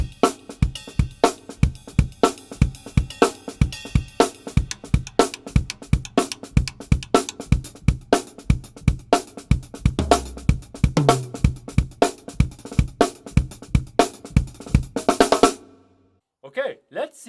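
A drum kit plays a fast linear groove with accented hi-hat strokes, a dense, steady run of sharp hits for about fifteen seconds before stopping abruptly into near silence.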